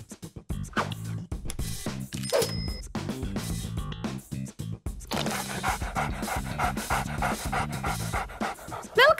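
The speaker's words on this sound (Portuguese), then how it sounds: "Belo cachorro!" A dog pants rapidly and rhythmically at close range, with quick breathy bursts continuing throughout over some background noise and movement.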